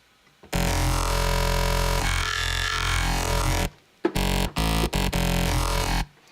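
A thick, buzzy crossfaded wavetable synthesizer tone drones loudly for several seconds, then breaks into choppy stuttering bursts before fading out.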